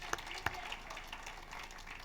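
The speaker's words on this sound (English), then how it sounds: "round of applause for David" Faint, distant round of applause from a small audience at a Sunday morning church gathering: a soft, steady patter of clapping lasting about two seconds, with a couple of sharper individual claps near the start.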